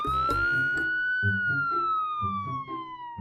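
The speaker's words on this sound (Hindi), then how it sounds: "तभी सायरन बजाते हुए एसपी का कॉन्वॉय गांव में प्रवेश हुआ।" A loud police siren from a police convoy entering a village wails continuously in a steady rising-and-falling tone, close by, over rumbling engine noise.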